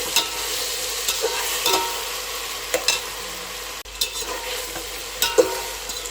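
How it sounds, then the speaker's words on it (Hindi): Chicken fries with onions in a pan, a steady close sizzle punctuated by repeated scraping and tapping as a utensil stirs the pieces, with no voices. "अब हम चिकन को प्याज के साथ फ्राई करेंगे।"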